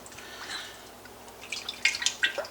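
About three liters of frying oil are poured into a bigger pan for double-fried chicken wings. There is faint, close trickling with a few brighter drips and splashes toward the end, and no talking.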